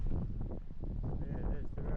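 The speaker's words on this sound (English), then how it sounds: "Oh, it is windy today, that's killing me." Wind buffets and rumbles across the microphone of someone cycling near Amsterdam on a blustery day, a dense, continuous low roar with no clear breaks.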